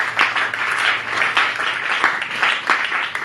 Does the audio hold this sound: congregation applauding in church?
yes